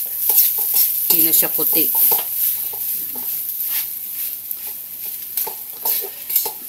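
Rice frying in a pan is stirred and pressed, giving a close sizzling hiss with irregular scraping and mashing strokes, while a voice speaks briefly over it.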